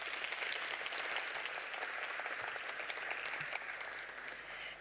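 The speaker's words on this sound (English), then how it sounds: "You guys deserve a round of applause." An audience claps steadily for students graduating with masters and honours degrees, a dense sustained round of applause that holds level and tapers slightly toward the end.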